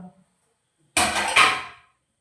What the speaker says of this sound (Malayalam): മെല്ലെ ഇളക്കിക്കട്ടോ അടി പിടിച്ചോ എന്താ നമ്മുടെ വെജിറ്റബിൾ ബിരിയാണി